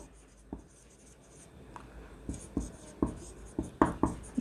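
A pen writes out a Class 11 permutations math solution in close, scratchy strokes and taps, sparse at first and then quicker and louder, with no talking.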